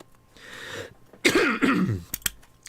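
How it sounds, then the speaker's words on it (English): A short burst of dry coughing and throat clearing, close and fairly loud, followed by a couple of sharp clicks. "Apologies, tickly cough."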